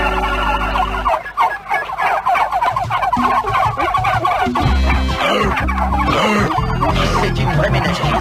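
A flock of turkeys gobbles loudly and repeatedly in bursts of rapid, warbling calls, close by and overlapping, with some talk in the background.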